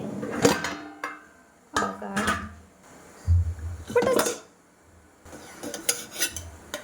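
Idli are lifted out of a steamer pot, heard as intermittent close metallic clanks and scrapes of plates and utensils, separated by short quiet pauses.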